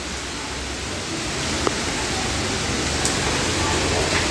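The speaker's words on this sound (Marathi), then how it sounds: "अचानकचा पाऊस झाला आहे" Rain falls suddenly in a broad, steady hiss that builds slightly and stays loud and close throughout, with no talking.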